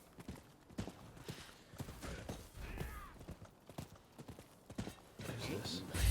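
Horse hooves clip-clop in the video game Rise of the Ronin, a quick, steady rhythmic trot of close, crisp hoof strikes with a faint whinny-like sound late on.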